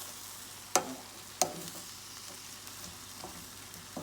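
Ingredients being mixed into a hot sizzling pan for a home-cooked lunch, a low steady fry with two sharp spoon clacks early on and lighter scraping stirs after.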